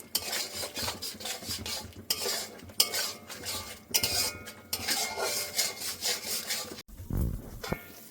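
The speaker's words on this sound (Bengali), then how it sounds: "হলুদ দিয়ে দিচ্ছি, এগুলো দিয়ে আরেকটু ভেজে নেব।" Ground spices with turmeric and chili powder fry in a pan for chicken curry while a metal spoon scrapes and stirs in quick, repeated strokes, close and busy, with a short pause near the end.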